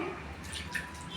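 Water pours and trickles briefly onto poori dough in short, soft splashes, close but faint, with a low hum underneath.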